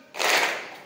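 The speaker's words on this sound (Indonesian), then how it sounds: "Kenapa jadi pelan-pelan tepuknya ya?" A seated group in a morning class gives a single short round of clapping, a close, bright burst under a second long that swells and fades quickly.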